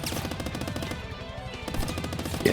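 Rapid automatic gunfire from the video game Squirrel with a Gun comes as a steady stream of shots across the whole moment, loud and close, with no talking.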